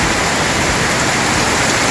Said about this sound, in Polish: Deszcz, akurat deszczyk chmurka postanowiła się rozwiązać w tym momencie.